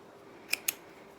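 Two quick, crisp scissor snips cutting chained-off sewing thread between jersey pieces, close and clear in a quiet room with no talking.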